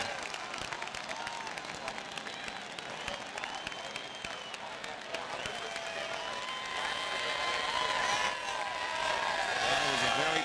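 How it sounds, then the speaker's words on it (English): Race fans in the grandstands at a 1998 NASCAR Cup race roar and applaud, a broad distant crowd swell that grows louder toward the end, with a commentator talking over it. "Listen to the crowd."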